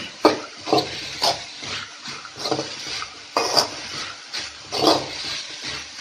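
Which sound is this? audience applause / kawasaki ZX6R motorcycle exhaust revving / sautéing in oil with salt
sautéing in oil with salt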